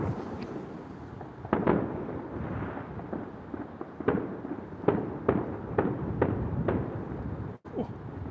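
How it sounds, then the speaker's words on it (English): Distant fireworks bang and crackle in repeated bursts around a river harbour at night during sea fishing, the irregular pops carrying over a steady outdoor background. "Every direction I look, I can see fireworks."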